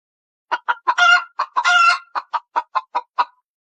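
A chicken, dressed up with a flower, clucks in a quick run of about a dozen short, close, clear calls, with two longer squawking bursts early on and no talk over it.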